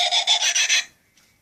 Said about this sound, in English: my dollar store motion activated light and sound witch